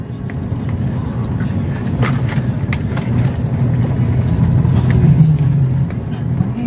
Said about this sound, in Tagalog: May truck na.